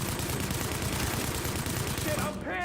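Sustained light machine gun fire in an online shooter, a dense continuous burst of rapid shots, loud and close, ending abruptly near the close.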